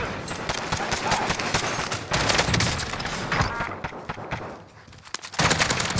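Dense, sustained gunfire fills a Call of Duty Warzone match as an unlocked Black Ops 2 MP7 and other weapons fire in loud, rapid bursts, with brief lulls and a renewed close barrage near the end, a player's voice faintly under it.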